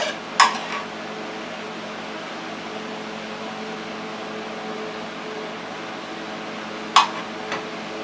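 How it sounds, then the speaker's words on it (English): Fried apples with raisins being placed into a bowl: two short, sharp clinks spaced several seconds apart over a steady background hum. "I'm gently placing them in this bowl."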